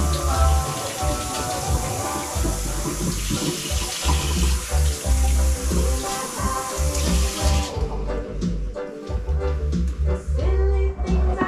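Tap water runs steadily into a sink while a freshly gutted kahawai fish is rinsed, a close, continuous splashing rush that stops near the end.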